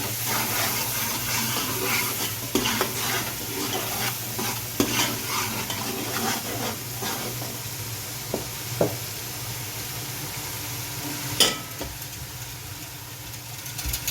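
Garlic-ginger paste sizzles and fries in a pot, with a steady hiss and occasional scraping knocks of a spoon stirring.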